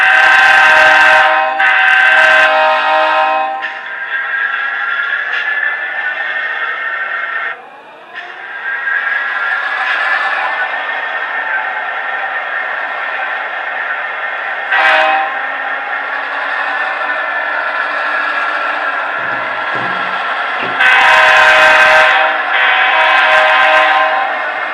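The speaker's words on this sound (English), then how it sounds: "if we just move the train along a little bit" A model railroad train with its engines running along the track, a steady close mechanical whir and rumble with brief louder bursts and a short dip midway, no voices.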